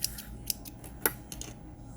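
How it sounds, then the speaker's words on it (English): Small snippers cut the end off a piece of braided elastic while making a scrunchie, giving a few crisp, close snips spaced apart in a quiet room. "get my little snippers, cut the opposite off"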